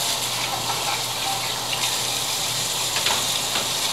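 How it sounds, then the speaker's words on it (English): Hands rinsed under a running kitchen tap make a steady, close gush and splash of water for a few seconds, with no voices. "Rinsing my hands off right now."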